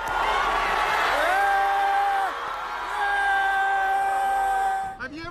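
A large outdoor crowd at the Toronto Raptors championship parade whoops, yells and cheers continuously, with rising and falling shouted calls standing out loudly above the dense roar before it briefly drops away at the end.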